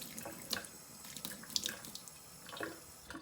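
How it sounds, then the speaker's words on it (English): Tap water runs steadily into a sink while hard-boiled eggs are peeled beneath the stream, with a continuous close splash and small scattered knocks and crackles from the shells. "under the running water."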